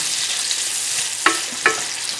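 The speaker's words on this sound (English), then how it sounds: "We'll let that sizzle for a little bit." Bacon and food frying in a Le Creuset pan, a steady broadband sizzle with two brief sharper crackles or stirring clinks, close and continuous with no talking.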